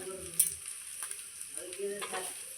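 Coriander leaves and chopped tomato frying in a pan, giving a soft, steady sizzle with a few light stirring scrapes, close and fairly quiet, with no voices.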